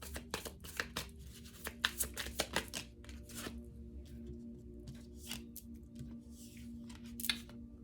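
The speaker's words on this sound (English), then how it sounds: "All right, let me shuffle it up." Tarot cards are shuffled by hand close up, a quick series of crisp riffling snaps and soft slides, then quieter shuffling in a calm room.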